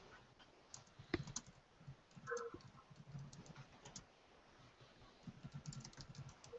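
Soft computer keyboard typing clicks along in quick, irregular bursts, faint and close, during an online tabletop game session.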